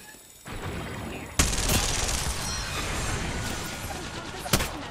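Dense, continuous automatic gunfire from an Apex Legends match rattles on without a break, with a few louder bursts standing out. Players talk over the shooting.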